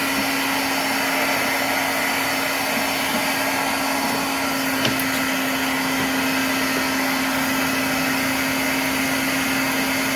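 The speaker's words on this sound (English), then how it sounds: "I'm going to be using hot air." Hot air rework tool heating a TV backlight LED strip during repair, giving a steady, continuous broadband hiss of airflow with a faint fan hum, unbroken and fairly loud throughout.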